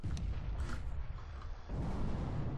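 A grenade explodes in CS:GO, a heavy rumbling boom that swells after a brief dip and holds as a dense roar over continuous low game noise.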